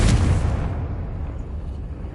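A Confringo spell explosion in Hogwarts Legacy on PS5 bursts as a single loud, deep boom that rumbles and fades over about two seconds.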